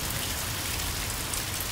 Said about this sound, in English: then it's raining.